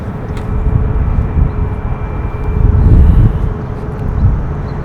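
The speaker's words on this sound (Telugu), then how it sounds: "ఇప్పుడే ఒక ఫ్లైట్ వెళ్ళిపోయింది చాలా కిందగా" A low-flying airplane passing near an airport, a loud steady rumbling roar that swells in the middle and then eases, heard outdoors with no talking.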